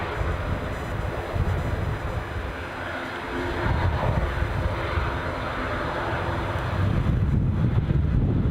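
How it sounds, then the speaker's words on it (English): Steady broadband roar of an Aer Lingus turboprop airliner at Edinburgh Airport on a windy morning, a continuous distant engine drone with wind buffeting the microphone throughout, no speech. "So a bit of early turboprop action."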